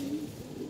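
Pigeons coo softly at close range as they come in to feed, a short low throaty call over a steady background.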